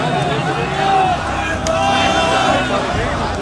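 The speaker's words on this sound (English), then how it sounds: "A mob surrounded the building." A large crowd of protesters mobs the KGB headquarters in Dresden at night, a dense, steady roar of many voices and shouting that continues throughout.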